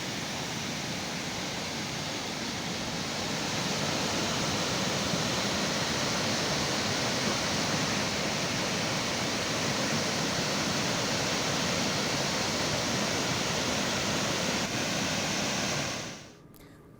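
Rain-swollen floodwater rushes past in a dense, steady roar after heavy monsoon rain around Pune, loud and unbroken for most of its length before cutting off abruptly near the end.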